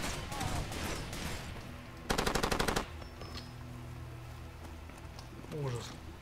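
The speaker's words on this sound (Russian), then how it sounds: "Прям выстрелы, прям." A short burst of rapid automatic gunfire in the shooter game Far Cry 2 rattles out for under a second, loud against quieter game ambience, with people talking before and after it.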